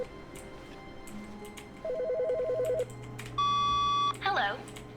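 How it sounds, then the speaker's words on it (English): Inside The Stanley Parable, a phone produces electronic tones: a rapid warbling trill, then a long steady ring tone, loud and close, with a few clicks and a brief voice near the end. "I hear the phone ringing."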